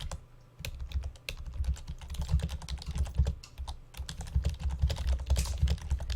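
Rapid typing on a computer keyboard clatters up close, a continuous stream of crisp key clicks with short pauses, over a low steady hum.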